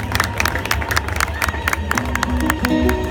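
Applause and cheering fill a Moroccan-rite wedding ceremony after the ketubah is read, a dense sustained wash of clapping hands from the gathered guests with crowd murmur underneath, steady and close throughout.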